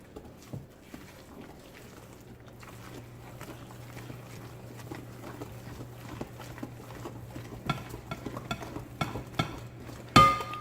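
Sweet potato cornbread batter is stirred by hand in a bowl, giving quiet, repeated soft scrapes and light knocks that grow a little busier, ending with a sharper clack.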